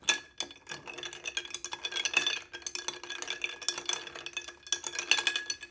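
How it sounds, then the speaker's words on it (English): A spoon stirs sugar and bitters in a cocktail glass, a soft, steady scraping and clinking that keeps a quick rhythm, close and fairly quiet. "Make sure you stir the sugar and the bitters around"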